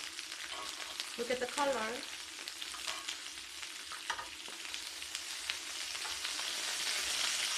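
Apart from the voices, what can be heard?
pork belly samgyupsal grilling and being turned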